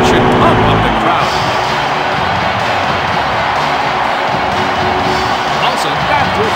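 A crowd roars in an NHL 2K3 hockey game after a goal, a dense, loud and sustained cheer. Commentary speech runs over it throughout.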